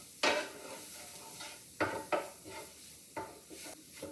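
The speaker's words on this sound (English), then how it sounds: "Just going to sprinkle it right over the sausage. Then start stirring it around" A spoon stirs flour into browned sausage gravy in a pan, giving several sharp scraping knocks against the pan at irregular intervals over a soft background hiss, close and fairly quiet.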